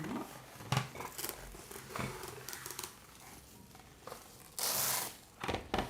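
Plastic saran wrap torn from a roll in a home kitchen while making pierogi dough, heard as crinkling and a sharp rip, with a loud bright tearing burst near the end among scattered rustles.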